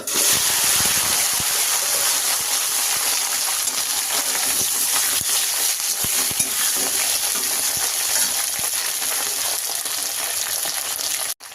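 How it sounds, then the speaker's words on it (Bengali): Loud, steady sizzling of okra frying in hot mustard oil, with a dense crackle and occasional faint clinks of a utensil, continuous throughout. "এখন তেল গরম হয়ে গেছে, ভেন্ডিগুলো ভেজে নেব।"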